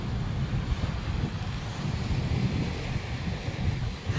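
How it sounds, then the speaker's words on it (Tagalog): Strong wind buffets the microphone over the steady roar of ocean waves breaking at Giant's Causeway, a loud, continuous wash with no speech. "Nalilipad ako ng hangin."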